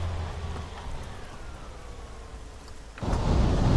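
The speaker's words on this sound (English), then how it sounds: "And lightning strike afterwards" A thunderclap from a lightning strike on Altis in the video game Arma breaks in suddenly after a steady bed of rain, a loud low rumble that swells and holds to the end.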